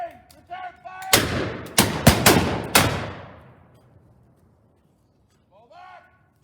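Black-powder musket volleys at a Battle of Alamance reenactment: several loud, sharp cracks in quick succession with ringing decay, followed by near silence, with shouted voices before and after.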